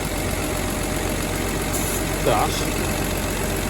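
A rebuilt engine in a WW2 Humber staff car idles off choke at about 500 RPM, a steady, fairly loud low rumble with one brief bump near the middle, while someone talks over it.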